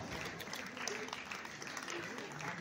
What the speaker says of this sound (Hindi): यो नानीहरूको निम्ति पनि जोरदार ताली बजाउँ है